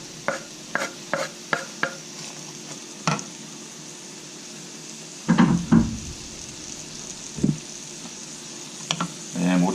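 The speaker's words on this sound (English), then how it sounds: "And we'll just sweat these down a bit" Chopped onion, celery and garlic sweating in a pan: a soft sizzle under a run of sharp utensil taps and clinks, then louder stirring scrapes, close by.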